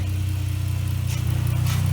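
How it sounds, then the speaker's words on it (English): A 2019 Chrysler 300 AWD Sport engine idles with a steady low rumble and whooshing intake noise through a stock-looking intake, loud and close, with faint airy surges on top. "Now we'll let you hear the intake on this car."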